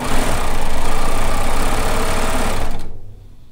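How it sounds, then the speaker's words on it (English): A serger sewing machine stitching kimono fabric, a loud steady mechanical whir running close for nearly three seconds before spinning down and stopping, no talk. "you can make these on just a regular sewing machine"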